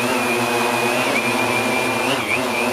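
A drone's motors whine in a steady, loud, sustained tone as the throttle is applied, with a slight rise and wobble in pitch near the end.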